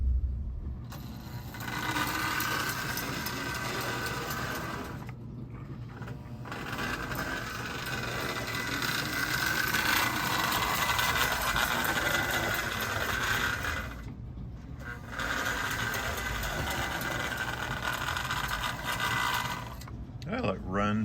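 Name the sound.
Marx custom tank toy locomotive running on layout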